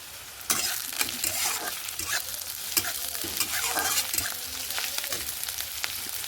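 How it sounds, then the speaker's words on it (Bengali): Chopped onion, garlic and slit green chillies crackle loudly in hot oil in a wok, with a spatula scraping and tossing them in frequent rough strokes over a constant sizzle. "তেল গরম হয়ে গেছে, এর মধ্যে দিয়ে দেবো কুচিয়ে রাখা পেঁয়াজ, এর মধ্যে দেবো রসুন কুচি"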